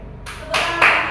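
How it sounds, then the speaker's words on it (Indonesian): A few claps in a classroom during a practice lesson, three quick bursts of hand clapping close by and rising in loudness. "Tepuk tangan."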